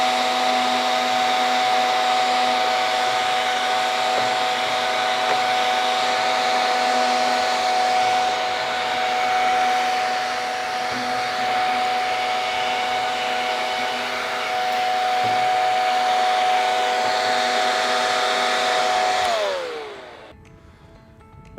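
A gutter-cleaner blower, its elbow removed, blasts air up inside a tube heater's reflector to clear dust off the tube, a loud steady whooshing roar that winds down near the end before falling quiet.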